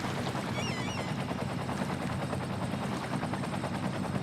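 A helicopter in the city-building game Cities: Skylines flies low over a pier, its rotor blades giving a steady, loud whirring drone that runs through the whole stretch with no talk over it.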